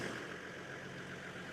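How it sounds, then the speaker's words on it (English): Steady low diesel rumble from a Toyota Land Cruiser idling off-road, a continuous even drone heard from inside the vehicle with no talking. "Look at the torque on that diesel just idling us along."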